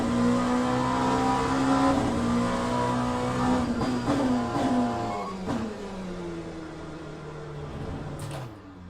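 Race car engine in the sim racing game Le Mans Ultimate, a Shelby, droning steadily with harmonic tones that rise and fall through gear changes, loud and continuous with no talk.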